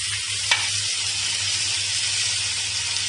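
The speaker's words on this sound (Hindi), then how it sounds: "टमाटर को भी हमें अच्छे से भून लेना है।" Chopped tomatoes frying in a pan for bhindi do pyaaza: a steady, soft sizzle and hiss throughout, with a faint low hum beneath and one brief clink near the start.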